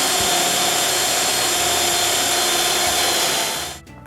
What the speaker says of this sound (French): Je perce aussi un trou pour le senseur de température.